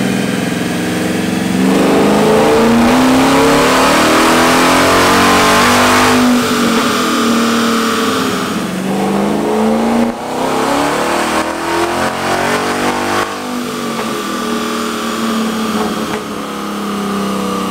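Ford F-250 Super Duty with the 7.3L Godzilla V8, sprayed with a 200-shot of nitrous, roars hard under acceleration, its loud engine note rising and falling through gear changes as it pulls away.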